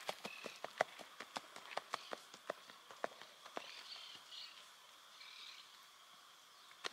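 A chestnut horse's hooves strike in quick, regular clip-clopping beats at a comfortable gallop, fairly faint and at a distance, with birds calling softly in the background and the hoofbeats fading toward the end.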